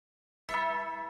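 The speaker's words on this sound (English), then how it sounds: "The school bell." School bell in a video game rings out suddenly after silence with a single sustained, resonant metallic tone, moderately faint and alone.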